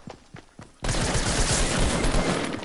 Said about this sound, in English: No, I'm getting shot.